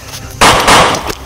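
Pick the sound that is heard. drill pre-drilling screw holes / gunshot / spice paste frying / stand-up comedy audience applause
gunshot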